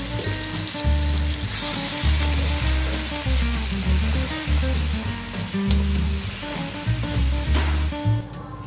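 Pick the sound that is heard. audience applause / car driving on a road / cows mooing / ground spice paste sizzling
ground spice paste sizzling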